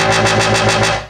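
A harsh, distorted dubstep synthesizer scream wails loudly with a pulsing, wobbling texture, then tails off at the end.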